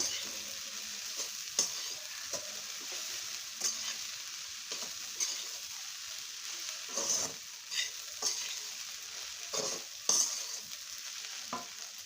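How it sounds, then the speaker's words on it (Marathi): Moong dal dry-roasting in a pan for halwa, stirred with regular scraping strokes and sharp spatula knocks over a faint, steady sizzle, fairly quiet and close, with no talking. "अजूनही 2-3 मिनिटं आपल्याला हे भाजून द्यायचे चांगलं, सोनेरी रंग येईपर्यंत"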